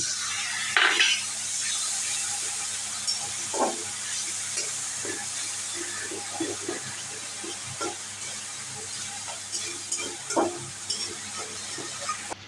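Spice paste fried and stirred in a pan after sugar and water are added, for a banana-flower and chickpea ghonto: a steady close sizzle with repeated scraping stirs and a few light clinks of the spoon against the pot, no talk.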